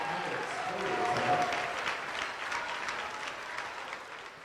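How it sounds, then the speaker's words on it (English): Crowd applause fills a gym at a girls Class B high school basketball game, Harding County against Jones County, steady clapping and cheering sustained throughout, with some voices mixed into the noise. "Should get a crowd applause here for the Lady Ranchers."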